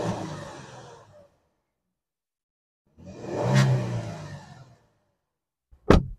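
A Genesis G70 3.3 turbo with a sport exhaust revving in bursts: a fading roar at the start, a second rev that swells and dies away after a silent gap, then a short sharp blip at the end, close and loud.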